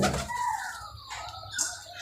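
A Punjabi pigeon beats its wings in a quick burst of flapping, close by and fairly loud, with faint cooing or chirps mixed in and no talking.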